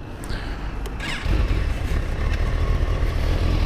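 A motorcycle pulls away on a rough, loose surface, its engine note rising and growing louder after a brief lower idle, a steady close rumble with no talk.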